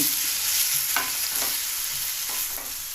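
Cauliflower and beef sizzle gently in a pot under a constant hiss, with a few soft scrapes of a spoon stirring.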